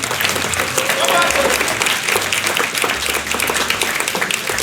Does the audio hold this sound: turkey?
no